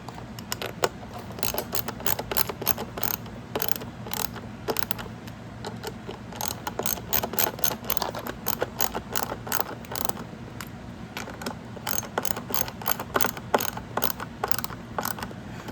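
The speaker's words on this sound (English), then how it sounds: "And I finish it off with regular ratchet style." Rapid ratchet clicking from tightening the spring pack on a Favero fencing reel, a dense run of sharp mechanical ticks in bursts that repeat steadily throughout, close and fairly loud with a low hum underneath.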